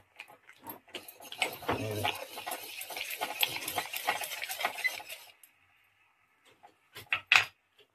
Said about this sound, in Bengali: ডিমটা দেওয়ার সময় এরকম করে নেড়ে নিতে হবে যাতে ডিমটা এক জায়গায় হয়